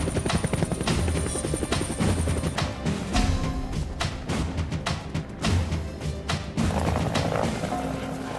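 Cartoon helicopter flies with a loud, rapid chopping rotor beat, joined by clattering effects and shifting tones, continuous and close throughout with no voices.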